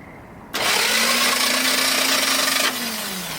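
The starter on a 1978 Macho Spirit Power Wagon spins freely without catching the flywheel. A loud, steady electric whine runs for about two seconds with no engine firing, then drops back to a quieter hum.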